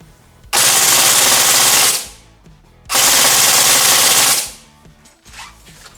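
A CYMA M16A4 gel blaster firing on full auto: two loud, close sustained bursts of about one and a half seconds each, a dense buzzing rattle with a brief gap between, no talking.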